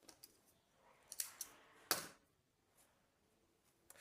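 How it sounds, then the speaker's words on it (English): A few quiet, crisp snips of scissors cutting off yarn after crocheting a granny square, with light clicks around them in a quiet room. "cut off our yarn"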